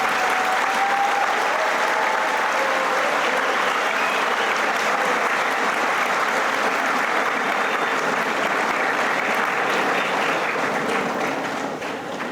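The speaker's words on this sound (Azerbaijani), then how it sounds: "Onları da bir yaxşı alqış sizdən gözləyirəm." A large crowd at Azerbaijan University's 32nd graduation day ceremony claps in a long, even, thick wave of applause that stays strong throughout and only tapers faintly in the last moments.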